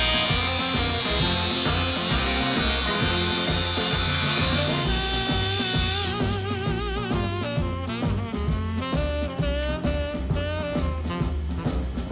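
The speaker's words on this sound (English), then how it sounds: "So right now they're gonna just cut the piece a little bit," A power tool cuts a piece for a protective business-entrance canopy, giving a loud, continuous whining, buzzing cut. The pitch and load shift partway through, and there is no talk.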